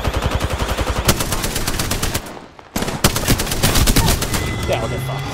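Apex Legends gunfire rattles in loud, rapid automatic bursts, with a short lull in the middle before fast shooting resumes and carries on to the end.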